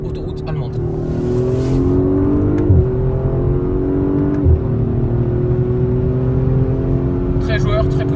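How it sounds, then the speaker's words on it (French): An Audi RS5 merges onto a German autobahn, its engine rising loudly through the revs with a couple of brief gear-change dips, the strained tone climbing steadily throughout. Nobody talks. "On se reprend avec la RS5 toujours et une petite insertion autoroute allemande."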